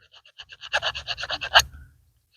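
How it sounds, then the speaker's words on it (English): A hand combination file scrapes corrosion off a metal connector in about a dozen quick rasping strokes, faint and close, with no talking over it. "File off all that corrosion."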